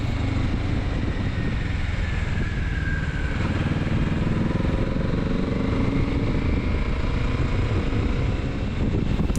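A 2024 Kawasaki Z650RS motorcycle rides near Carson City, its steady engine drone loud and constant alongside heavy wind rush, with a slowly shifting pitch as it cruises.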